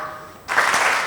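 Conference audience bursting into clapping on command, a sudden wash of many hands starting partway through after near silence, fairly loud and dense.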